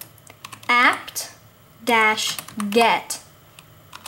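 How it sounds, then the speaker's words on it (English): Keys click softly on a computer keyboard as a terminal command is entered during Raspberry Pi setup, with a person talking over and between the brief taps. "So to install an app, you're going to type in sudo"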